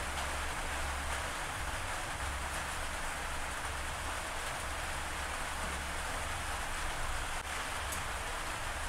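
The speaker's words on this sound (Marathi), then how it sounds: "पावसाचा पण आवाज भरपूर यायला लागलेला आज व्हिडिओमध्ये" Rain falls steadily outside a home kitchen, a soft even hiss of drops that holds constant and fairly faint for the whole stretch, with no talking.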